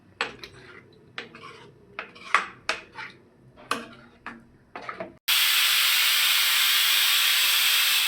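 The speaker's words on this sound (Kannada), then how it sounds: "ಅನ್ನದ ಒಂದು ವಿಷಲ್ ಬಂತು, ಆಫ್ ಮಾಡ" Several sharp kitchen clinks and knocks of dishes come first, then a pressure cooker cooking rice suddenly lets out a loud, continuous hiss of steam that holds steady to the end.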